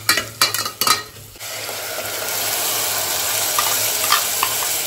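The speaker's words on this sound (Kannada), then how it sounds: "ಈಗ ತರಕಾರಿ ಸ್ವಲ್ಪ ರೋಸ್ಟ್ ಮಾಡ್ಕೊಬೇಕು." Onion and vegetables roasting in a pan, a few quick clattering stirs of a spoon against the metal up front, then a loud steady sizzle carrying on alone.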